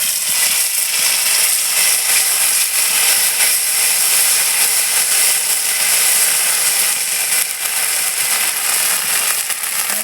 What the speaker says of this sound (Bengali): কড়াইতে দিয়ে দেবো তেল, আর দিয়ে দেবো শুকনো লঙ্কা আর জিরে ফোড়ন, আর দিয়ে দেবো কিছু আদা জিরে বাটা